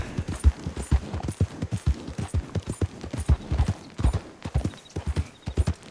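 Horse hooves clip-clopping at a steady riding gait in Red Dead Redemption 2, close and clear, with rapid rhythmic hoof strikes carrying on throughout.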